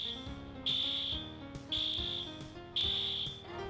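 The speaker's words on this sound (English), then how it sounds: "The fire alarm" A fire alarm sounds in repeated loud electronic pulses, three strong beeps about a second apart over a steady buzzing tone, with no talking.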